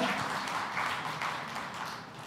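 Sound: audience applause for the minister

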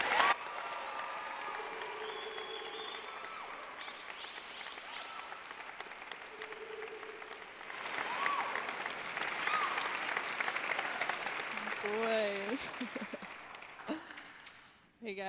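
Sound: audience applauding welcome for speaker

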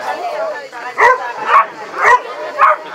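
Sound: hunting dog barking

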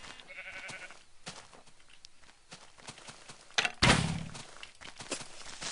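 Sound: sheep bleating in Minecraft video game

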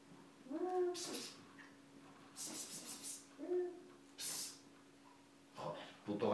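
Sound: cat meowing

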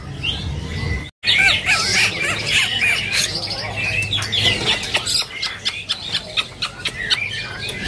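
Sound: pentet (long-tailed shrike) singing at a bird market

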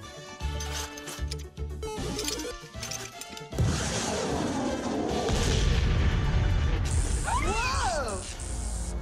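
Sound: cartoon atomic spud gun firing

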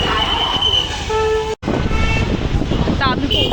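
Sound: street traffic with car horns in Pune

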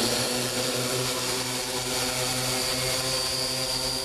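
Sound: medicine delivery drone flying

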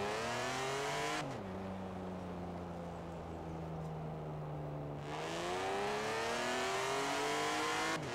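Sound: 2011 BMW Z4 sDrive35is car driving in Forza Horizon 4 video game

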